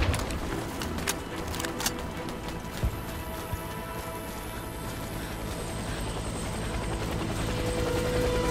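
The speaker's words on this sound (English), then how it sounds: "Helicopter is inbound." A helicopter's rotor thrums faintly in the distance in the video game Warface, its chopping drone slowly swelling louder as it approaches for an extraction.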